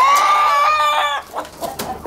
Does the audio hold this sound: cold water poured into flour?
no